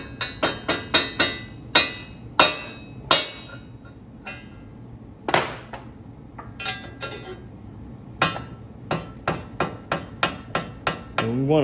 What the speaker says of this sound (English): So what I like to do is take a hammer, because these are pretty stiff little bearings.